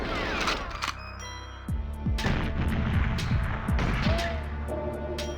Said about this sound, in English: It's got a silencer on it.